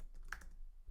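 A short burst of computer keyboard typing, a few quick close clicks clustered together against a quiet room background.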